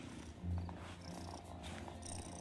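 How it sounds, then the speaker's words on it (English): Soft, steady purring from a cat in the farming video game Wylde Flowers, a low continuous rumble heard up close and alone, with game ambience faintly underneath. "Must never be too much in too much of a hurry to pet the cat."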